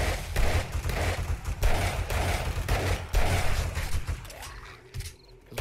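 Rapid gunfire bursts at zombies during a horde night in the video game 7 Days To Die, dense repeated shots for several seconds that thin out near the end, loud and close.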